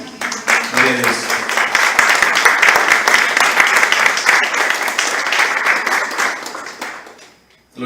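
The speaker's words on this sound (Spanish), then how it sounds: "Un aplauso al Señor" A church congregation bursts into loud, sustained applause that fills the room and then fades out.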